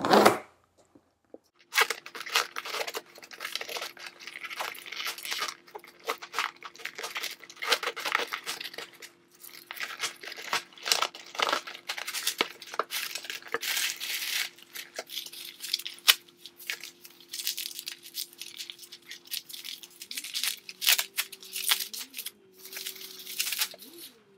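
Keys scrape and tear open a shipping package holding a Contax T2 film camera, with bursts of scratching, crinkling and ripping close up over about twenty seconds, and a faint low hum in the background.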